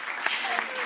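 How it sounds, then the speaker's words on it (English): Brief burst of clapping from a school board meeting audience, a quick run of hand claps heard at moderate level over room tone. "Can we please clap for that, please?"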